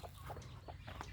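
A few soft, short clucks from a mother hen with chicks, faint and somewhat distant, over a steady low background hum.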